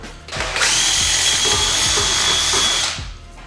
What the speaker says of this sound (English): The reason I'm drilling these holes